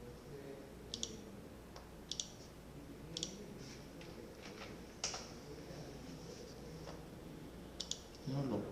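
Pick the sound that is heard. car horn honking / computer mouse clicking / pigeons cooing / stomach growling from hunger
computer mouse clicking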